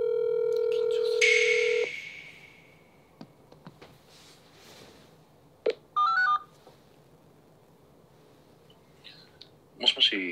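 A telephone dials out with a short tone burst, then a series of brief keypad tones and clicks spread over several seconds, with a voice speaking faintly in the background.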